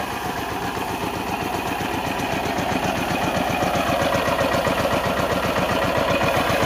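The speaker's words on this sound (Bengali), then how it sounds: "একটা মেশিনে ধান ঝাড়াচ্ছে, মেশিন দিয়ে।" A paddy-threshing machine run by an engine, worked by three people on a home farm, throbs in a steady, fast mechanical pulse, loud and continuous throughout.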